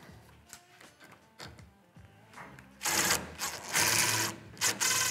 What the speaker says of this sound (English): Now I've got the bolts tightened down.